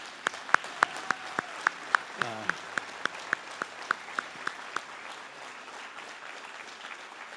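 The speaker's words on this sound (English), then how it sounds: "Please give her another round of applause." At a university commencement ceremony, a sparse audience applauds with sharp, separate claps in a loose rhythm that thin out and fade into quiet room noise after a few seconds.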